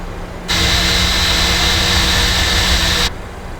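Airliner jet engines spool up for takeoff with a loud, steady roar that starts abruptly, holds for about two and a half seconds and drops back to a lower rumble.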